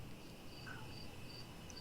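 Faint, high cricket chirps repeat at a steady pace against a quiet background hum, with no one speaking.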